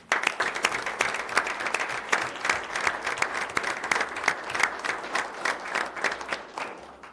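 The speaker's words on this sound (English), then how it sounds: "So let's give Sarah a round of applause." Audience applause at a city council meeting, a steady, fairly loud wash of many hands clapping for several seconds with no talk over it.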